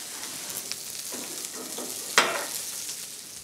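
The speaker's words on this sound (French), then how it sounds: "Notre Saint-Pierre, voilà, tranquillement grille." A John Dory grills over an open fire, giving a steady, close sizzling hiss with one sharp crackling pop partway through.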